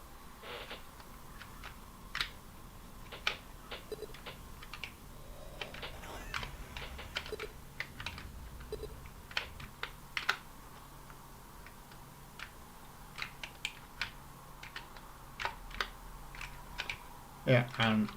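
Sparse, irregular keyboard clicks while someone plays a keyboard-only game on an Amiga 1200 with a Warp 1260 accelerator, soft taps scattered through a quiet room with a faint background hum.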